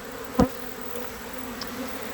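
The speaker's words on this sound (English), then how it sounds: "You guys scared to reach down into a pile of bees." A honey bee swarm drones in a steady, low buzz throughout, with one brief louder thump near the start and faint flickers of nearby insect passes.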